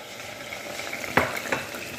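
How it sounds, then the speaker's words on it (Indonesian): Chicken pieces fry in hot oil in a pan, giving a steady close sizzle, with two sharp stirring scrapes of a utensil against the pan near the middle and end. "Ayamnya digoreng, tutupin jadi biar mateng ya."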